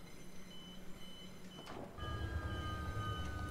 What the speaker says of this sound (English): Open the doors